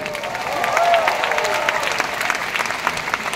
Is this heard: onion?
no